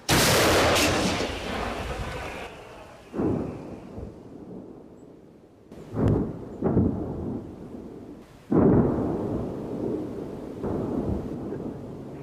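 A loud, deep artillery boom opens, rolling away into a long rumble, followed by several more distant thuds and blasts spaced seconds apart.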